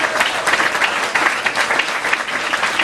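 Concert audience at The Soundry in Columbia, Maryland, applauding loudly and close, a dense, continuous roar of clapping with no gaps throughout.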